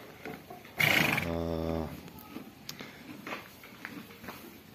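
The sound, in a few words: six-month-old foal neighing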